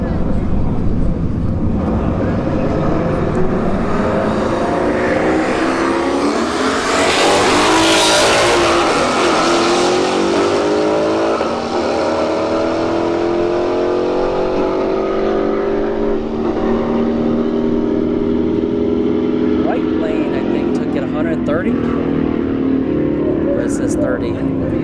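Camaro SS in the right lane and an S550 Mustang in the left launching side by side at a street drag race at Bradenton Motorsports Park; loud, continuous engine roar climbs steadily in pitch through the gears, with voices underneath.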